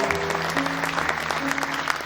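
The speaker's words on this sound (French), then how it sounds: "est-ce qu'on peut l'acclamer?" An audience applauds and cheers to celebrate the first-place winner of an international competition, steady clapping throughout with a few voices underneath.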